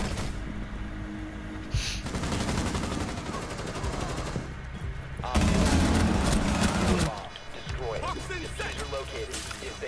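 Bursts of automatic gunfire in a Rainbow Six Siege round ring out in loud clattering volleys, strongest in the middle, mixed with crashes and game effects.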